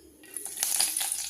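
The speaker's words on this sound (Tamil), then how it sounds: "எண்ணெய் காயிட்டுங்க. கருவேப்பிலை போட்டுக்கலாம். கடுகு கொஞ்சம் போட்டுக்கலாம்." Mustard seeds drop into hot oil in a pan with curry leaves for cassava dosa. A brief, close burst of crackling sizzle and tiny pops builds over about a second.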